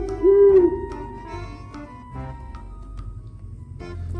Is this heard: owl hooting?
yes